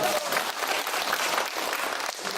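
Congregants at a Korean church evangelism testimony service clap together, a thick, loud burst of applause from the gathered crowd running throughout without speech.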